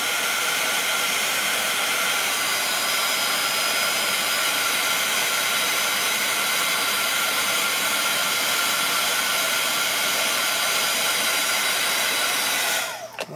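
A hot-air heat gun for embossing on a stamped card blows a loud, steady whooshing roar close by, running continuously with no talk before cutting off abruptly at the very end.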